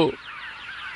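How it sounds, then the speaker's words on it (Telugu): A short burst of honking calls from migrating birds, close and loud, with a brief harsh cry at the start and another at the end. "ప్రదేశాలు మారే పక్షులు."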